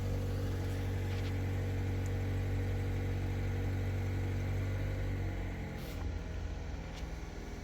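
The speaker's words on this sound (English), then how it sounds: "So it's coming down off of high idle." A 2013 Mazda 3 engine idles steadily and close by, its low hum settling as it comes down off high idle, with a slight drop in level near the end.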